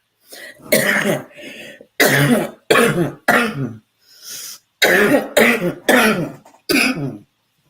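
A series of harsh, forceful coughs in close bursts with short pauses between them, loud and near, with some throat clearing mixed in.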